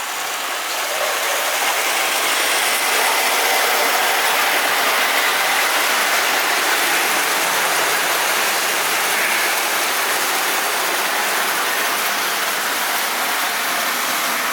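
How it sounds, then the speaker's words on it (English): Steady, dense mechanical whirring and clattering of a small HAG model train hauling uphill on solid rail track from before 1960, running continuously, with no voices. "And now we'll see the HAG train haul up the hill."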